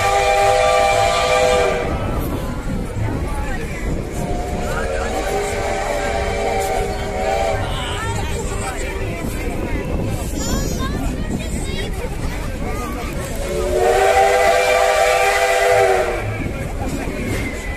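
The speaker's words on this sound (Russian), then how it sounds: "Поезд Победа прибывает на первую в первой платформе номер один." The Victory steam train arrives at a station platform in Georgievsk, Stavropol Krai, its loud steam whistle sounding in two long blasts at the start and again near the end, with rumbling wheels and crowd voices in between.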